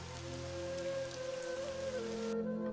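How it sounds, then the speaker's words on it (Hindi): Heavy cartoon rain pours through the night as a dense, even hiss over soft tonal music, cutting off abruptly just before the end. "सारी रात बारिश झमझम बरसती है।"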